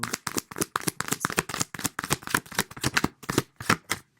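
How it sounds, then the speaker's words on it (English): Tarot cards shuffled in quick, steady riffles, a crisp rhythmic flutter of slapping paper repeating close to the microphone. "I usually shuffle before I record videos, but I know most of you like to listen to it"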